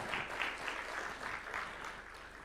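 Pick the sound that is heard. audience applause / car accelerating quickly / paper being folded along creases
audience applause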